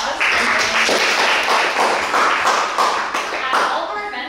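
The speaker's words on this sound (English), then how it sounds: "Give her another round of applause." Audience applause at a university forum event, a dense close patter of many hands clapping steadily throughout, with some voices mixed in.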